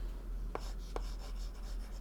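A pen writing a trigonometry equation by hand on paper, soft scratchy strokes with two brief sharper marks, close and faint over a low steady hum, no voices.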